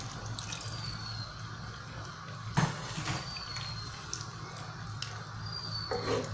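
Boiled water pours into boxed coconut milk for a Thai noni-leaf pork curry, a soft steady trickle with faint splashes and a brief clunk midway, quiet and close, with no talk.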